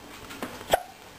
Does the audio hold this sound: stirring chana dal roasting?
no